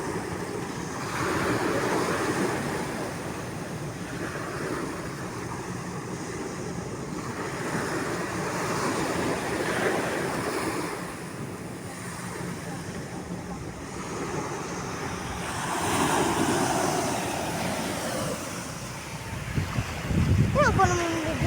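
Sea waves roll onto the shore in a continuous roaring wash that swells and fades, with wind buffeting the microphone and voices talking now and then.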